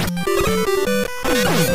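Chiptune background music from the video game Mega Man 2 plays loud and steady, with bright square-wave melody notes hopping in pitch over a driving rhythm and no talk.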